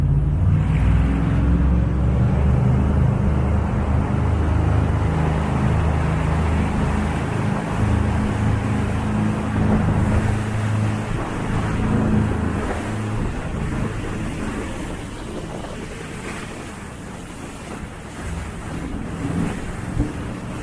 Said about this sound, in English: The jet boat, we just skip across the top of it.